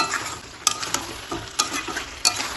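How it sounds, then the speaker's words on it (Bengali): Chicken pieces being sautéed and stirred in a pan with chicken stock for a Bengali malai chicken, steady close sizzle with a few sharp spatula scrapes and clacks against the pan, no voices. "এইভাবে আমি দু থেকে তিনবার আমি চিকেন স্টক দিয়ে মাংসটা এইভাবে কষিয়ে নেব"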